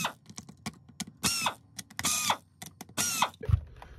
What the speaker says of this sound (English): We're just going to remove these 4 screws here with the T10.